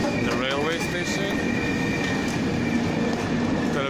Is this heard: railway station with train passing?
yes